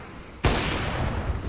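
A gunshot in Counter-Strike on the Mirage map during an ESL Impact match, a sudden loud blast after a quiet moment followed by a sustained roaring wash of sound.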